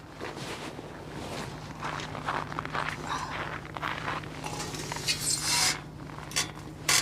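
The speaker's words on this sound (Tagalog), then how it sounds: "Grabe yung tunog ng hagdan na." Crunchy footsteps climb steadily on stairs, gritty scraping steps repeating close by, with faint background hum.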